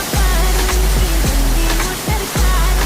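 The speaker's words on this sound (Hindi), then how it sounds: "बहुत सुंदर सा वाटरफॉल है ये।" The Longkvovu Waterfall in Assam roars as a continuous broadband rush of falling water, loud and close, with dull bumps of wind or handling over the steady wash.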